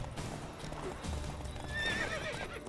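A horse in The Witcher 3 video game neighs loudly near the end over a bed of clip-clopping hooves and game ambience.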